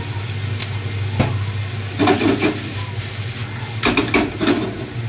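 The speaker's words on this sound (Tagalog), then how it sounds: "Palambutin, palutuin muna natin bago natin lagyan ng itlog." Sliced bitter melon frying in a pan, a steady sizzle with bursts of stirring scrapes and clinks, close and fairly loud.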